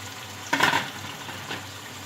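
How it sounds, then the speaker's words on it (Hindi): Tomato masala frying in a pan for a torai (ridge gourd) dish, a brief loud sizzle and stir scrape burst, followed by a quieter second stir over a low steady hiss. "टमाटर डाल के हम इसे भून लेंगे। मसाला भुन गया है"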